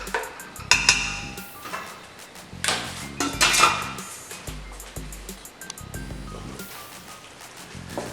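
Ground meat browning in a pot with diced onions tossed in for chili, heard as intermittent clanks and scrapes of a utensil against the pot over a soft, faint sizzle.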